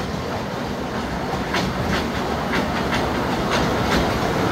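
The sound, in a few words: park train with coal engine running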